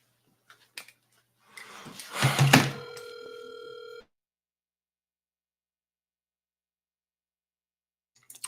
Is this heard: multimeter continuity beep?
no